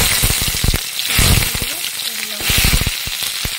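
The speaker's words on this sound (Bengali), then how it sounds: "তেল গরম হয়ে গেছে, এই হাতে জিরাটা দিয়ে দেবো, তেজপাতাটা দিয়ে দেবো" Cumin seeds and bay leaf hit hot oil in a pan on a homemade clay stove. A bright crackling sizzle rises and falls while a voice talks over it nearby.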